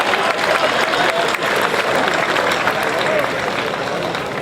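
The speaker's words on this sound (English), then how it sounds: "So give yourselves a round of applause for that" An audience at a solar celebration event with a mayor applauds in a sustained, even wash of clapping that holds steady at a fairly loud level throughout.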